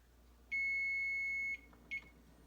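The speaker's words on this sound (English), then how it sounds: "The timer." An electronic kitchen timer beeps in a quiet kitchen where Greek lemon chicken and potatoes are baking in the oven: one long steady tone about a second long, then a short chirp, clear but moderately soft over a low hum.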